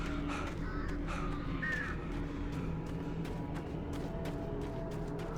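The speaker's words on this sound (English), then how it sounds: "I feel like we're going to be getting attacked by more birds soon." Crows caw in the video game Alan Wake Remastered, a series of harsh, raspy calls at a middle distance over a low, constant ambient rumble.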